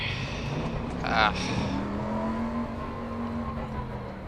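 In the ACC (Assetto Corsa Competizione) GT3 racing game, a race car clips the final chicane with a back tyre and loses control, its steady engine drone holding under a brief scraping burst, while a voice exclaims over it.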